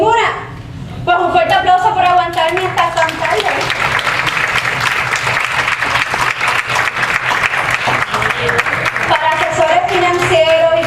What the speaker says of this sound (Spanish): Pues un fuerte aplauso por aguantarme hasta tan tarde.